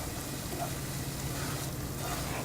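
Grated carrot with sugar sautés over medium flame for carrot payasam, giving a soft, steady sizzle with faint stirring, close but quiet, no voices.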